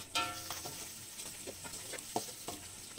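Red onion, shallot, garlic and ginger sauté in a pan with a constant sizzle, broken by a few sharp scrapes and clicks as a utensil stirs them, close and alone.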